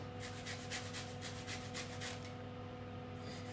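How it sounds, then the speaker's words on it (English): Lemon zest being rubbed off on a grater while the fruit is turned in the hand, a quiet rhythmic rasping of about ten strokes over a steady background hum, no voices. "But as you zest it, rotate the lemon in your hand."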